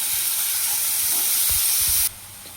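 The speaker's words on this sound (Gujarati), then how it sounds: "ડુંગળીને આપણે ત્યાં સુધી સાતળવાની છે જ્યાં સુધી ડુંગળી થોડી ગોલ્ડન બ્રાઉન ના થઈ જાય" About two chopped onions fry in a pan for a Kathiyawadi sev shaak. A loud, even hiss and sizzle carries a few stirring knocks, then drops suddenly to a quieter simmer near the end.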